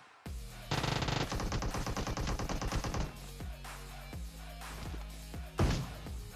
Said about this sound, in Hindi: जंप एंड फायर के लिए अगर सबसे बढ़िया कोई ऑटो गन है ना तो वो उजी है।